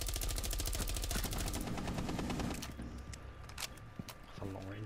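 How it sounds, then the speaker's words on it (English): Rapid gunfire from a long range gun in a tactical shooter round, sharp repeated cracks at a steady fast rhythm for the first second and a half, then sparser shots and clatter with a voice briefly talking. "That's a long range gun."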